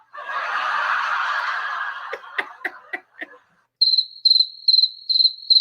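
Crickets chirp outdoors in a loud, steady rhythm of high, even pulses. They follow a stretch of breathy noise and a few sharp, laugh-like bursts.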